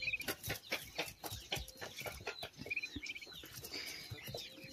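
A hen with her week-old chicks: soft repeated clucks and rhythmic pecking taps, with thin high peeps from the chicks scattered throughout, fairly quiet and close.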